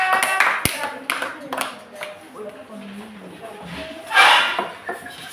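Students in an economics classroom clap for a presenting group, a brief scattered round of hand claps mixed with voices and room noise, fading into chatter.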